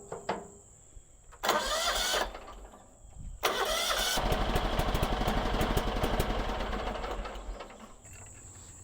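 A John Deere tractor engine cranks in two short bursts, then catches and fires up into a loud, steady running rumble, close by with no voices.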